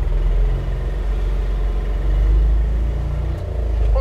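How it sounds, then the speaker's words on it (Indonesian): A diesel vehicle pulls along in second gear with a loud, continuous low rumble from inside the cabin, its engine drone holding steady with slight rises and dips over several seconds. "Pakai gigi dua kali ya, karena dia diesel kan, mestinya kuat torsinya."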